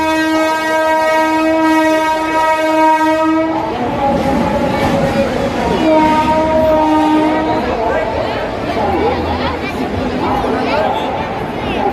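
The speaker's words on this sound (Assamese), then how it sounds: "গাইজ আহি গ'ল ট্ৰেইন" A loud train horn blares for several seconds, then rumbling rail noise follows while a crowd chatters nearby at a level crossing in Nalbari, Assam, during a festival.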